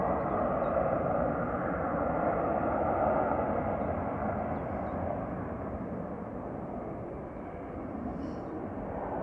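A Ryanair airliner bound for Barcelona lines up on the runway at Manchester Airport, its engines a steady, distant broadband roar that holds throughout and eases slightly toward the end.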